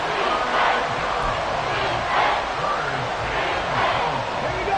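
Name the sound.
crowd noise rising in a football game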